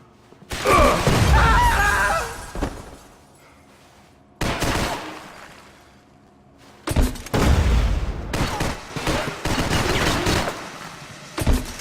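Rapid bursts of gunfire in the video game Max Payne 3, loud sustained volleys broken by short pauses, with sharp impacts and mechanical clatter between the strings of shots.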